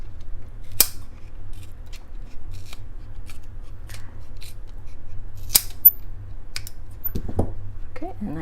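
Scissors snip thumb spica splint material in a few sparse, sharp cuts over a low steady hum, close and fairly quiet.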